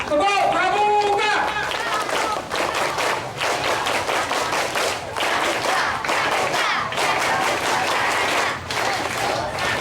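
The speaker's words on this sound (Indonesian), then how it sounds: "Tepuk tangan yang keras dan suara yang keras. Tepuk pramuka." Schoolchildren at an elementary school perform the rhythmic scout clap, tepuk pramuka, loud massed clapping mixed with group shouting and chanting, continuous and close, with an adult voice briefly heard at the start.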